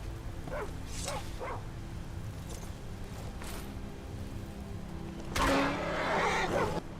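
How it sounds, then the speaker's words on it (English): A stray dog in the Skyrim video game, which turns hostile, gives a few short yelps early on and then a louder, rougher burst near the end, over steady game ambience and a low hum. "Oh, is that a stray dog?"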